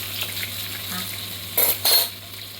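Chicken sizzles steadily in hot oil on a banana leaf, a soft continuous crackle with two brief louder spatters as pieces are flipped and stirred.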